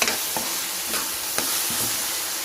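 Masala spices sizzle as they are stir-fried in a hot pan for a chana masala curry, with a constant frying hiss and a few distinct scraping strokes of a spatula.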